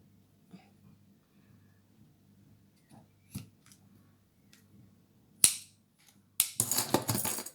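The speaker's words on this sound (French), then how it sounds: "Je vais essayer de couper ce côté qui est pas très joliment" Scissors cut paper for a handmade flipbook in a quiet room, giving a few faint, scattered snips and taps, then a sharp cut and a louder burst of rustling, crisp paper handling at the end.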